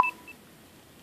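A phone gives a short electronic low-battery alert at 15% charge, a brief pair of clear beeps at the very start, followed by near silence.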